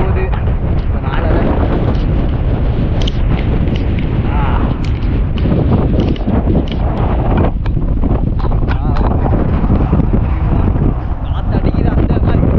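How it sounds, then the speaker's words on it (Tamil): Strong wind buffets the microphone on the Pidurangala Rock viewpoint in Sri Lanka, a loud, continuous rumbling roar with gusty swells throughout, and a voice speaks faintly under it. "காற்று அடிக்குது அந்த மாதிரி"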